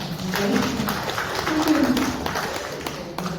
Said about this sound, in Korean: 박수 한번 쳐주시면